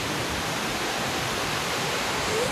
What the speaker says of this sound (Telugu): అదిరిపోయిన వాటర్ఫాల్ మాత్రం వేరే లెవెల్